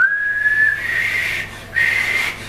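A person whistles a thin, steady high tone that falls away briefly, then returns for a second shorter note, close to the microphone with no talking.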